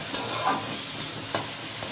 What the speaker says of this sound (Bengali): আবার সব কিছু খুব ভালো করে দেখো মিশিয়ে নিচ্ছি